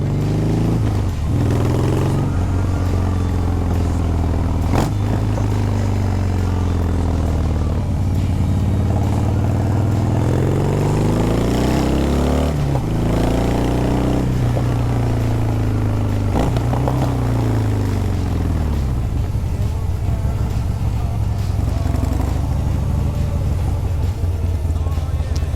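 A loud Harley-Davidson Breakout motorcycle engine revs and drops repeatedly as it shifts down through the gears under braking, pitch falling with each downshift, close and continuous.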